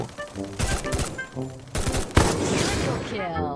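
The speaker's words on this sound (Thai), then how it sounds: "ยิงตั้งนานยิงไม่โดนสักนัดเลย" Video-game gunfire crackles in rapid bursts and fusillades over a steady tonal backdrop of game music and effects, loud and continuous through the moment.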